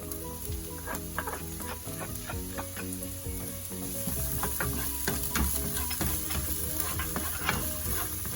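Garlic and ginger sauté in a pan with a bright continuous sizzle, punctuated by frequent clicks and scrapes of stirring, close up.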